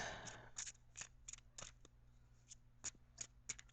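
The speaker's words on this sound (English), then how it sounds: "I'm going to now shuffle for the outcome card" Tarot cards riffled and snapped in several quick bursts, close by, with short quiet pauses between, over a faint steady background hum.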